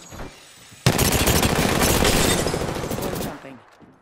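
Gunfire in Apex Legends erupts after a short quiet start, a loud, sustained rapid burst of automatic shots that runs for several seconds before fading out.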